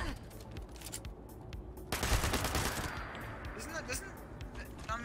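Gunfire from Scorched enemies in Fallout 76 erupts midway as a rapid burst of shots, fairly loud over game ambience, while a player talks.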